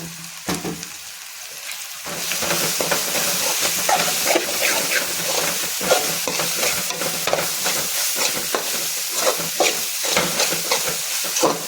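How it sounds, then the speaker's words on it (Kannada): Garam masala and coriander frying in a pan, with a steady sizzle and hiss and repeated stirring scrapes across the whole stretch. No one speaks. "ಸ್ವಲ್ಪ ಗರಂ ಮಸಾಲ, ಸ್ವಲ್ಪ ಧನಿಯಾ, ಇಷ್ಟು ಹಾಕಿ ಮತ್ತೆ ಫ್ರೈ ಮಾಡ್ಕೊಳ್ಳಿ"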